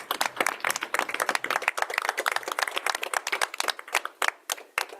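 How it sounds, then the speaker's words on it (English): A school board meeting audience applauds, a small group clapping in quick, distinct claps that sound close and fairly sparse, with no talk over them. "give her a round of applause"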